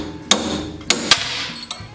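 A brass hammer taps a rusted part loose, four sharp metallic strikes with ringing decay spaced irregularly over two seconds, close and loud against a quiet background.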